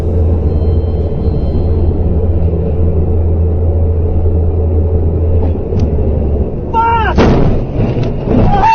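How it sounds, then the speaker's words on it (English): A truck slams into a mini truck on the road: a steady low engine rumble runs for several seconds, then a sudden loud crash and grinding of crushing metal erupts near the end. "The sound of crushing metal fills the scene as the mini truck is destroyed."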